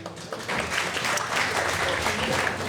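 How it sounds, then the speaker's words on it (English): A live podcast audience claps in a steady, even wash of applause that swells slightly after the first half-second and holds throughout at moderate, somewhat distant volume. "Give yourselves a round of applause."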